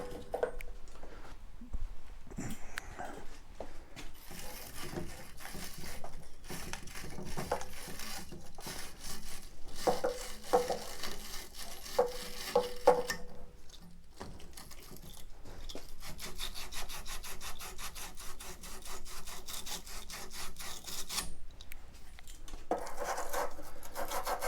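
Steady scraping and rasping as cut copper pipe ends are deburred with a hand tool during an electric water heater installation, close and continuous with brief metallic clicks, no talk.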